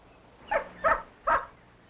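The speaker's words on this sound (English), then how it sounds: "these are the actual sounds of the gosling and the eagle communicating" A golden eagle named Lady gives three short, harsh calls to a gosling, evenly spaced and close, with a quiet background between them.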